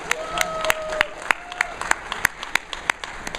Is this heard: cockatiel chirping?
no